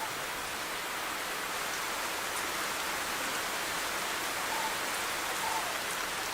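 Steady rain falls through a forest, a dense even hiss of drops on leaves and ground, constant and moderately loud with no other sounds.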